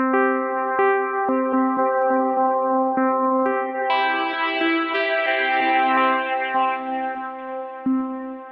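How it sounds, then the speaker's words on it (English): Synth notes in a sustained melodic line run through the Box reverb from Fors as a Max for Live device on an Ableton Push 3 standalone, tones blooming into a long, washy tail with bright layered harmonics. "I know that Box is the reverb from Fors"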